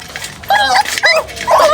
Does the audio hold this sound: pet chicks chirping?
no